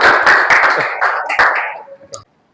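Students in a classroom break into a short burst of applause that is loud at first, then thins and fades out within about two seconds.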